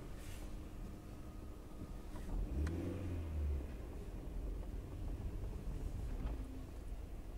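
A Škoda Fabia 1.4 MPI running on LPG drives along with a low, quiet engine rumble. Its tone rises briefly as the car accelerates, set against faint road and wind noise.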